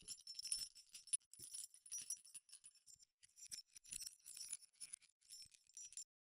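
A set of keys jingles in a quiet foley recording, with faint, bright metallic clinks and shakes coming in short bursts separated by brief silences.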